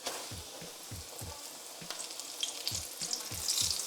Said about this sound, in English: Another thing about frying this onion in the oil before I fry the chicken, it's gonna give the oil a better taste.